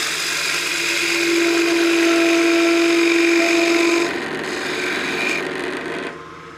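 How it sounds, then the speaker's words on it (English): Spindle gouge taking clean passes on the undercut foot of a wooden utility box on a lathe, a continuous close rasping hiss with a steady tonal whine that fades near the end. "I'll get my spindle gouge and try and do a couple clean passes"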